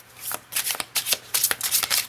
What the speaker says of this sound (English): can I get a clear shuffle, s'il vous plaît?